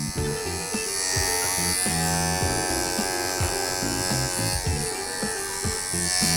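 A Wahl electric dog clipper fitted with a guard comb shaves the hair between a dog's eyes. It gives a close, steady motor buzz with small rhythmic dips as it passes through the fur.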